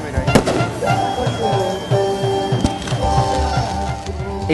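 Fireworks crackle and pop at a football club's squad presentation for Universidad San Martín de Porres, a rapid, dense series of loud bangs and rattling bursts over a busy crowd backdrop.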